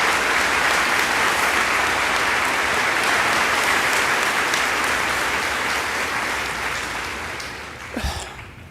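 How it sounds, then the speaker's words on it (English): Sustained applause from an audience at a commencement-style speech event, dense and steady throughout, tapering slightly toward the end with a brief bump of noise near the close. "They are applauding this man"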